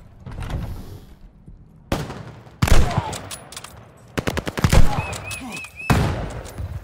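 Bursts of automatic gunfire in the Call of Duty Vanguard campaign, loud and close, with several separate volleys broken by brief pauses and clattering impacts.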